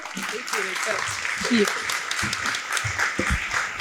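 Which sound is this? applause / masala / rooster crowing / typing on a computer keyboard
applause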